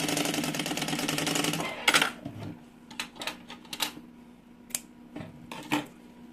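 A sewing machine runs a fast continuous stitch along a bag lining, then stops, followed by a series of sharp, separate clicks and short mechanical knocks.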